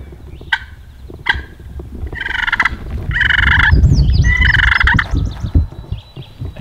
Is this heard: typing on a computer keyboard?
no